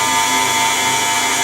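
An electric mixer stirs chocolate cake batter at low speed, giving a steady, loud, continuous motor whir with no pauses.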